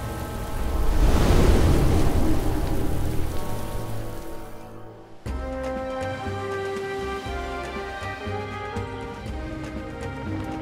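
Heavy rain pours in a storm at sea around a sailing ship, a loud steady wash that swells then eases before a sharp cut to a steadier, layered rain texture with a low rumbling undertone.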